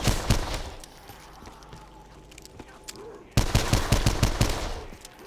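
A Hitchcock World War II gun firing in Black Ops zombies; rapid bursts of loud automatic gunfire with a quieter pause in the middle, then a dense fast volley.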